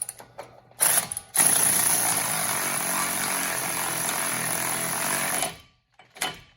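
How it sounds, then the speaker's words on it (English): An electric ratchet runs axle nuts onto a Jeep Cherokee Trailhawk: a couple of short whirring bursts, then one sustained buzzing run of about four seconds that stops abruptly, followed by a brief final burst. "I like to run the axle nuts in with a electric ratchet just to get them in snugged up"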